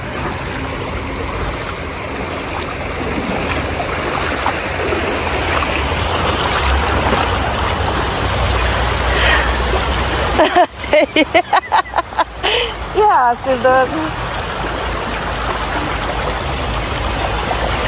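A stream rushes over slippery stones in a steady broad wash of water, close and loud, while people talk and call out over it, the flow briefly broken by choppy splashing midway.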